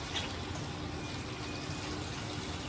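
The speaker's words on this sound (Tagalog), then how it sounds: "maghuhugas na ako guys. Hindi makalat ang ating lababo." Steady broadband wash of running water at a kitchen sink during dishwashing, continuous and fairly soft throughout with no talking.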